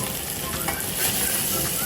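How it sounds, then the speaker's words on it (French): Steady broadband sizzle of vegetables frying in a hot pan, continuous and fairly close, with faint stirring clinks. "on va faire revenir les légumes"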